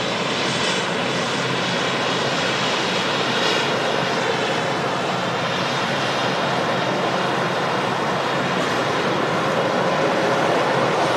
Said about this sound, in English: A few corrections there from the 330 before touching down.